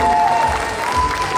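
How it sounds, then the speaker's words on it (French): Audience applause for the jury at a cosplay contest results ceremony at a manga and gaming convention, a dense, loud wash of clapping with a faint crowd murmur and a steady tone running beneath. "On les applaudit, s'il vous plaît."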